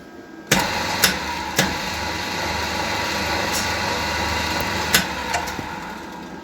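A homemade cold forging machine for making garden bench parts runs steadily: an electric motor drives the gearbox shaft through a tensioned belt and pulleys. A constant mechanical hum fills the scene, broken by several sharp metallic clacks, with no one talking.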